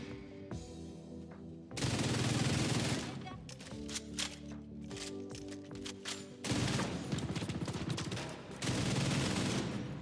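Gunfire in Division 2 comes in loud, sustained automatic bursts separated by brief gaps of scattered single shots and clicks, close and harsh.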